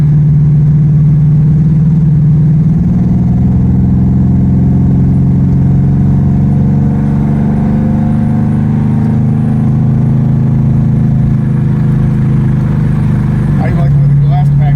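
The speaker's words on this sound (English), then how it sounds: "I like the way the glasspacks sound on this car now." A car with glasspack mufflers cruising in overdrive, its exhaust giving a loud, steady low drone up close that rises gently in pitch midway and falls back near the end.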